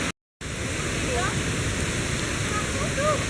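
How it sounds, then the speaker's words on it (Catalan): A jungle waterfall roars as steady, broadband rushing water, loud and constant, after a brief break at the start; faint chirps sit on top. "Y allá la cascada."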